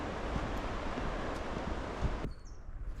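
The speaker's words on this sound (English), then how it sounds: "but it's windy." Strong wind buffeting across an exposed mountain plateau among pencil pine and beech in wild Tasmania, loud steady gusting noise close to the microphone that eases abruptly near the end.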